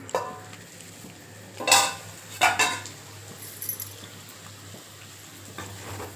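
Two short metallic scrapes and clinks of a lid being lifted and a spoon stirring chicken thokku in a pan, quiet, with a faint steady hum and low sizzle in between.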